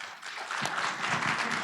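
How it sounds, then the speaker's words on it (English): An audience at a hemp workshop gives a round of applause, a steady broadband wash of many hands clapping that swells after a brief dip and carries on without talk. "Give her another hand clap."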